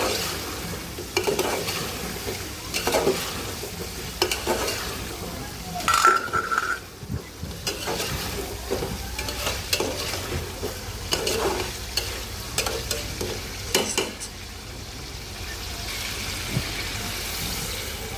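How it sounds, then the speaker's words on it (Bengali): Chicken pieces for a Bengali chicken curry stirred and sautéed in hot oil, a continuous close sizzle broken by repeated scraping and clattering of a spoon against the pot throughout. "তেল উঠা পর্যন্ত এটা কষাতে থাকবো"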